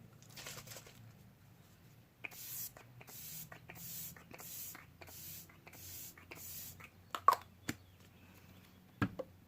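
Cosmetic setting spray misted onto a face in a series of about six short, soft hissing bursts, fairly close, followed by a few light taps and clicks.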